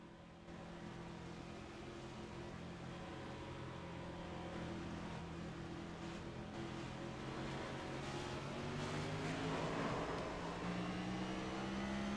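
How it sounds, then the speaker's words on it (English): Race car engines at Talladega Superspeedway during a 600-mile stock car race, a steady droning roar with rising and falling pitch as cars pass, sustained throughout at moderate distance with no talk. "listen to the engine note again"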